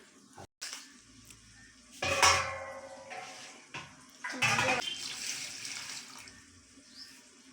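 Water splashes and pours into a metal pot of rice for chicken biryani, with clinking of utensils and containers close by and brief pauses between pours.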